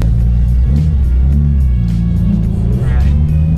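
A 2003 Mitsubishi Evo 8 with a turbo and straight-cut first and second gears pulls away from a stop. Its loud, deep engine rumble holds steady throughout, close up from inside the car.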